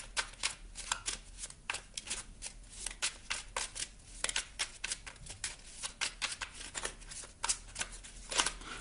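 Merlin oracle cards being shuffled by hand, a close, dry riffling and flicking that comes in repeated bursts of crisp snaps with short pauses between.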